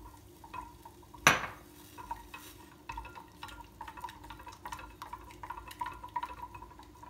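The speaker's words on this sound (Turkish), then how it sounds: "azar azar ilave ederek sürekli karıştıracağım arkadaşlar" A spoon stirs a mixture in a pot with quiet, steady scraping and light clinks, one sharp knock near the start and a low hum underneath.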